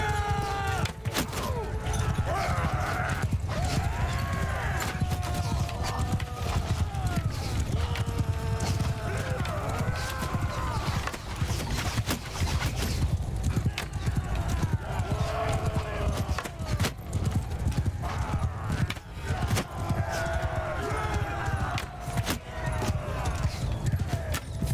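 Horses gallop in the video game Mount & Blade II Bannerlord, a fast continuous drumming of hooves with occasional whinnies and jangling tack, while someone talks over it.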